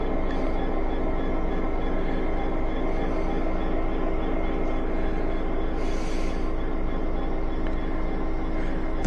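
The Royal Scotsman passenger train rumbles steadily near Inverness with a low, continuous drone and faint rattling, heard close and even throughout with no voices.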